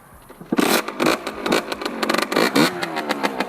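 Running 50cc motorbike engine close by, revving in repeated short bursts with choppy, pulsing throttle blips over a few seconds.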